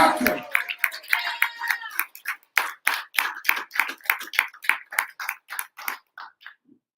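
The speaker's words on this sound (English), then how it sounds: "You're already clapping. You're already clapping." An audience clapping at a poetry slam, steady rhythmic claps in a regular beat that thin out and fade, with a voice talking over the first few seconds.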